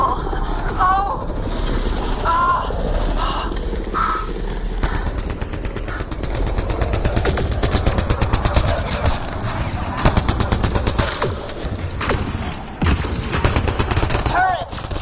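Turret machine gun fire crackles in the video game Mass Effect: Andromeda as dense, rapid bursts of shots with loud booms, while characters talk over the battle.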